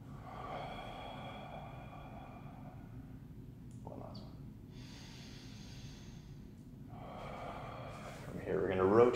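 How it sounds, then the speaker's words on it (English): Slow, deep breaths are drawn in and released during a gentle yoga stretch, with audible inhales and sighing exhales close to the microphone under a quiet background hum. "We're gonna go for three more breaths."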